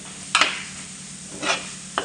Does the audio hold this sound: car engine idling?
no